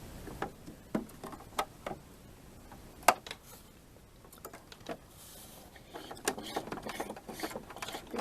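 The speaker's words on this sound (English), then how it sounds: "I'm using the hand wheel again just to go back and forth." A sewing machine's needle is worked slowly by the hand wheel while hemming a baby dirndl skirt, producing faint irregular clicks and soft mechanical ticks spaced apart, close and quiet.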